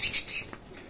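Pet budgerigars give a few quick, close chirps at the start, followed by a faint rustle as they play, all within about a second.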